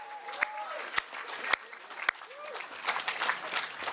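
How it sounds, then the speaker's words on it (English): Audience applause at the official opening of the 2019 Doug Moran National Portrait Prize, a steady patter of many hands clapping with a few sharp louder claps standing out, swelling slightly toward the end, with a voice faintly heard underneath. "Another round of applause from us."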